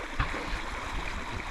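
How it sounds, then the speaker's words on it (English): Water running through a small canyon, a steady broadband rush with a slight gurgle near the start, continuous and moderately loud throughout with no voices. "I can definitely tell there's water because I can hear it"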